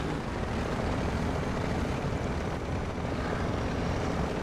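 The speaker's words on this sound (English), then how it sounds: "the audio that I can hear from your engine sounds really broken" A truck engine in a snowy driving video game, with all-wheel drive, gives a steady, loud, droning rumble that holds unbroken and close throughout.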